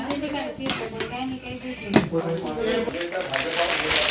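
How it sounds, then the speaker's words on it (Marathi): A pressure cooker lid is fitted onto the cooker in a home kitchen, producing close metallic clanks and scrapes under continuous talking. "आता झाकण लावून घेऊ कुकरचं"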